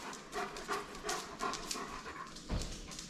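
A dog pants close to the microphone in quick rhythmic bursts of breath, about eight short huffs over a few seconds, fairly quiet with no talking.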